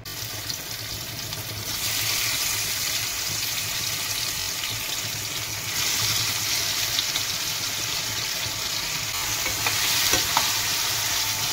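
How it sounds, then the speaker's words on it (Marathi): Potatoes fry in a small amount of oil in a home kitchen pan after onions have been removed, a steady, close, continuous sizzle that swells slightly at times with a faint scrape of stirring. "ह्याच्यावरती मी बटाटे फ्राय करून घेणार आहे"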